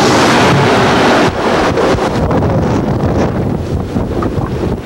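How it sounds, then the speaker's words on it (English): A large ocean wave breaks over a sailboat off Cape Horn: a loud roaring rush of water and spray with heavy wind buffeting the microphone throughout. "But those waves come any way they want to come, and when they break, they're powerful."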